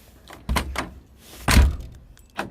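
A car door lock actuator unlocks and locks during a door repair, producing three distinct mechanical thunks, each a short close clunk separated by brief quiet.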